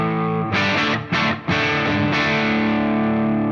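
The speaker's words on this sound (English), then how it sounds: "It's a big pushed clean tone." Electric guitar through the cranked Kraken clean channel on an amp setup with an N-Audio 8x7 switcher, a big pushed clean tone: a few loud strummed chords in quick succession, then one long ringing chord decaying alone.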